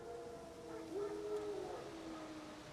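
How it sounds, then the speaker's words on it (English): Wild dogs howl in The Witcher 3 on Nintendo Switch, a faint, distant, drawn-out wavering howl rising over a soft ambient background, with no speech during it. "No. Wild dogs. Yes. More dangerous than wolves."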